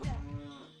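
A brief cow moo from the cows at Lon Lon Ranch in Zelda: Ocarina of Time, one short low call, close and fading out quickly, with no talk.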